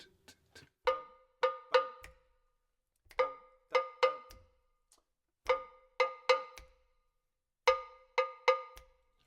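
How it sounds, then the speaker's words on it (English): Cowbell struck alone in a repeating Kabila Nação de Angola rhythm, bright metallic clanks grouped in short phrases of closely spaced strokes separated by brief gaps, crisp and close. "let's start with the cowbell."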